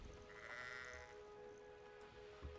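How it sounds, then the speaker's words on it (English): Sheep bleating in the Hogwarts Legacy video game, a faint wavering bleat over steady game ambience and music, no talking. "That's a sheep."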